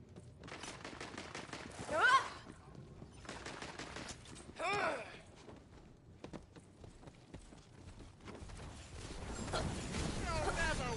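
Gunfire and magic effects from Tiny Tina's Wonderlands on PS5 come in bursts of rapid shots and whooshing blasts, with game voices in between and louder clutter toward the end.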